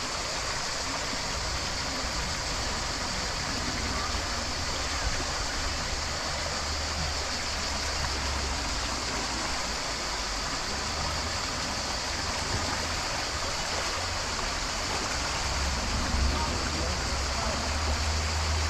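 Steady rushing water of a flowing stream in Vaison-la-Romaine fills the scene continuously, a broad even wash of noise with no voices.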